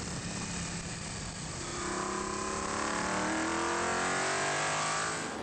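A 5-litre Chevy V8 in an F5000 race car at Taupo, roaring loud and rising in pitch as it accelerates down the front straight, with no voices.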